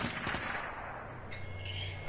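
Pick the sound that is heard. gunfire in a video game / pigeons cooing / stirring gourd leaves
gunfire in a video game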